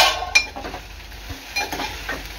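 Okra cooking in an uncovered pan, with light sizzling and a few sharp clinks and scrapes of a utensil against the metal, fairly quiet with no talking.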